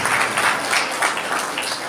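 Audience clapping at a community gathering, a dense, continuous round of applause lasting the full couple of seconds.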